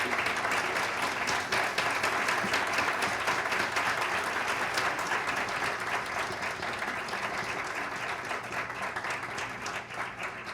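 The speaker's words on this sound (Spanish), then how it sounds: "quisiera que le diéramos un gran aplauso a ambos profesionales" An audience at a talk on multidisciplinary autism work gives a sustained, dense round of applause for two professional speakers, holding steady and close for about ten seconds before easing slightly.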